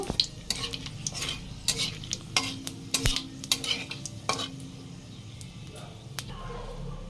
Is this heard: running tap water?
no